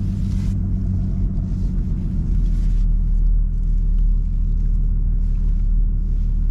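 A Porsche Cayenne Platinum engine with its exhaust removed idles loudly and roughly with a deep, throaty rumble, running unmuffled and steady with a slight surge partway through.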